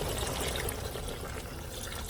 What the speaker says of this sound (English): remember the broth we did with the vegetable, right? I'm going to pour that in.